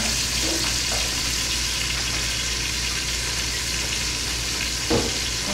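Oil sizzles steadily in a hot pan over medium-high heat while a Peruvian-style beer chicken dish is prepared, giving a continuous, even frying hiss with a brief louder crackle near the end and no talking.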